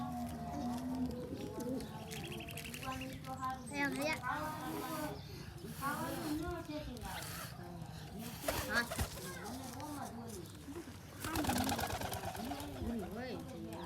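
Pigeons coo throughout, soft throaty calls repeating under steady talking, with some rustling and a louder burst near the end.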